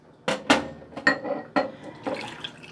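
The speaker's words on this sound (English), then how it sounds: "before it starts to curdle and create curds, we're going to pour it into our waiting dishes" Rennet custard mixture poured into waiting dishes, with several distinct clinks and knocks of dishes and utensils alongside liquid splashing and filling, close and fairly loud.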